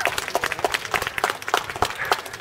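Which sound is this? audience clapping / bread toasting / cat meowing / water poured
audience clapping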